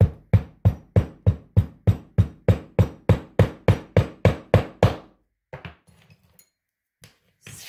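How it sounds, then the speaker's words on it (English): About fifteen heavy hammer blows land in a steady, even rhythm, packing dense clay into a sand-casting mold, followed by a few softer, scattered knocks and scrapes. "Pack it with some loose clay first. And then with some bigger chunks and compress it with your hammer."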